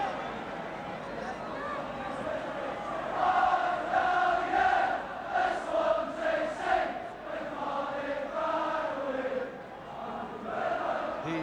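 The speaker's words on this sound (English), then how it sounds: "The Swansea crowd really making their presence felt here as Edvaldsen takes this throw. Really making a good noise." A Swansea football crowd at a Wales v Iceland match makes a sustained, swelling roar of cheering and chanting, heard from a distance.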